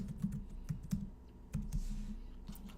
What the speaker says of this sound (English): So we're going to type in, for this one here,